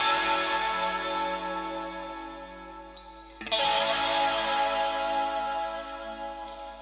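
Electric guitar run through a pop production effects chain, sustained chorus-washed, reverberant chords that ring out and then swell into a brighter, denser strummed chord midway, alone without voices.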